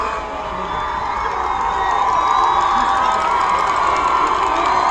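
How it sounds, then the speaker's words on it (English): A large crowd at a varsity high school football game between Ft. Morgan and Frederick roars with sustained cheering and shouting that swells louder partway through, loud and continuous. "And this crowd's really getting loud."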